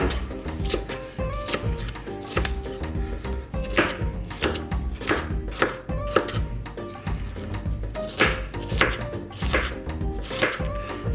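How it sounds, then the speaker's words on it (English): A knife slices through food on a cutting board in a farm kitchen, a steady series of crisp, close cuts and taps repeating every second or so without any voices. "So I'm just going to cut it into slices like that."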